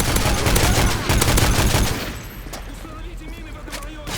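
Gunfire in Call of Duty MW3 Survival Mode: a loud, dense fusillade of rapid shots for about two seconds, then quieter scattered game sounds.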